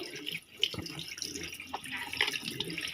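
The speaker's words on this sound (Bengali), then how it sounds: "এই যে সবজিগুলি ধুয়ে নিচ্ছি" Tap water running over vegetables being washed at a sink, a close continuous splashing with small knocks and clatters of the produce, no voices.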